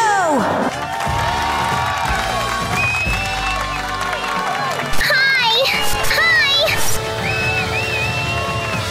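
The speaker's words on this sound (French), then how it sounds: "Sous les acclamations de la foule, Kiko a commencé sa performance." A crowd cheers and shouts with children's voices in the mix at a cheerleading competition, loud and sustained throughout, with chirpy, bright vocal sweeps cutting through the noise.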